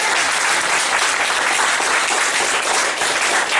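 A church congregation at a 2013 revival service applauds loudly and continuously, a dense wash of many hands clapping with scattered cheers filling the room throughout.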